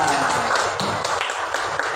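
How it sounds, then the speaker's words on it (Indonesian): Brief burst of clapping from a fifth-grade classroom for a pupil, a couple of seconds of scattered hand claps at moderate volume, somewhat thin and uneven. "tepuk tangan untuk Ulfa"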